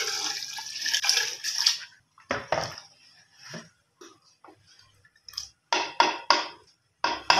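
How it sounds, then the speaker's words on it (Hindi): Cold water poured into cooked lentils while making desi-style mash chawal, coming in several splashing pours separated by quiet gaps and a few small clinks. "इनमें आपने नॉर्मल पानी जो होता है वो ठंडा पानी डाल देना है"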